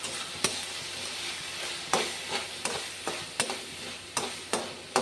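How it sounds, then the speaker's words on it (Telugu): Onions and tomatoes with curry leaves, turmeric, chili powder and salt fry in a pan, with a soft continuous sizzle broken by regular scraping stirs every half second or so, close and fairly quiet. "ఉల్లిపాయలు టమాటాలు దగ్గర పడినంత వరకు కలుపుకోవాలి"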